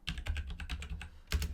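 Quick bursts of keystrokes on a computer keyboard, about a dozen close, crisp taps in an uneven rhythm with a short pause before a final cluster, heard alone.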